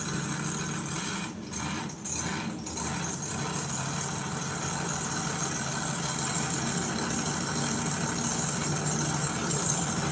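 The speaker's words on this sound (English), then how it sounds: "Listen to that cam. I want my truck to sound like that." A cammed car engine idles with a loud, close, lumpy rumble that holds steady throughout, uneven low pulses repeating with no voices over it.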